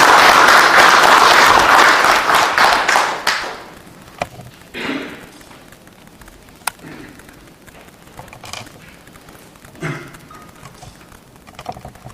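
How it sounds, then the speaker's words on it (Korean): Applause at an event in the Korean National Assembly welcomes a speaker to the podium. Loud, dense clapping lasts about three seconds and then fades, leaving a quiet room with scattered thumps and small sounds. "큰 박수로 환영해 주시기 바랍니다"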